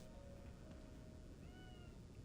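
A cat meows faintly twice in a quiet indoor room, the soft rising calls sitting under a steady low background hiss.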